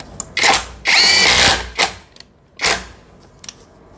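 Tanzu TZ-1080 600Nm cordless brushless impact wrench set to high torque hammers in loud, close bursts, one long rattling run followed by several shorter hits with brief pauses between.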